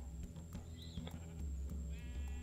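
Sheep bleat repeatedly in a farming video game, quiet wavering calls over a steady low engine-like drone and background game sounds.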